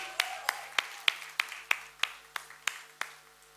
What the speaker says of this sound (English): we can quadruple that round of applause